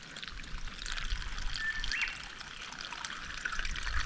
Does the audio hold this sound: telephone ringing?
no